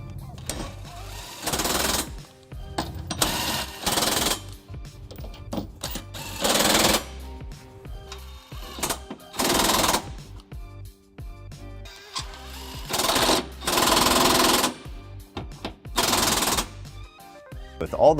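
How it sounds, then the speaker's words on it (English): Bursts of a power tool snugging trailer hitch bolts with a 19mm socket on a 2004 Pontiac Vibe, about seven loud rattling runs of one to two seconds each, separated by quieter gaps. "I'm just going to snug these up with a 19mm socket before we get them ready for a final torque."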